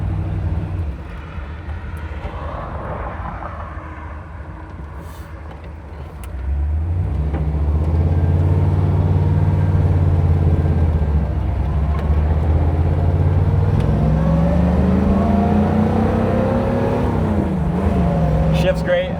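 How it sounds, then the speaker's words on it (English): A 1956 Ford Fairlane Sunliner with a 292 V8 idles smoothly and quietly, then a steady, louder engine drone sets in as the car pulls away and cruises, running continuously throughout. "How about that idle? Just really nice and quiet."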